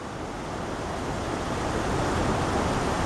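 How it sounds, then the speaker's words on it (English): Fast-moving river rapids at Tahquamenon Falls, a continuous broad rushing roar of water that swells slightly louder, with no voices. "we got some rapids over here too"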